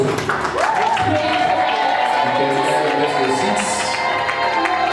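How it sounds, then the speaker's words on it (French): A crowd at a couple's blessing ceremony cheers, claps and shouts continuously as the couple returns to their seats, a dense, loud wall of voices with some talk mixed in. "nous sommes juste en train de les accompagner avec nos acclamations"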